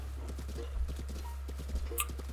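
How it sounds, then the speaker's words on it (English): Horse hooves clip-clop at a steady trotting rhythm in Zelda: Breath of the Wild as an unsaddled horse is ridden, the hoofbeats clear and even with no talking over them. "We'll just ride him without a saddle for a while."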